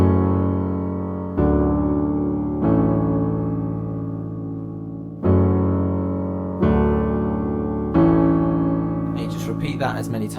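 Piano playing a song, slow chords struck roughly every one to two seconds and left ringing to decay, with a brief brighter flourish near the end.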